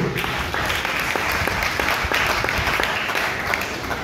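Guests at an African wedding ceremony, just after the vows, applaud warmly and steadily, a full wash of clapping with individual claps standing out.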